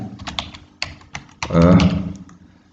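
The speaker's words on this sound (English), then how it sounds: "Here you type" Keys on a computer keyboard clatter in a quick, close run of clicks, followed by a louder cluster of presses that trail off.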